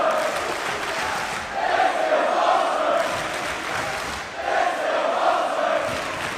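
A live wrestling crowd in Newcastle roars in approval after a Kushida versus Ospreay match, a dense sustained cheer that swells in two big surges and stays loud throughout.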